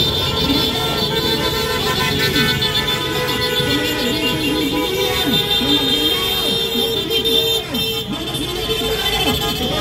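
Car horns honk repeatedly at an anti-corruption protest over a steady roar of traffic and engines, loud and continuous with overlapping tones, no clear talking.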